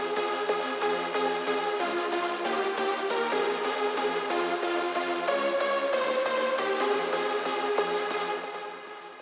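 A bright synth lead layer with a low cut and a boost in the mids and highs plays a steady rhythmic pattern of repeated chopped notes alone, then fades out at the end.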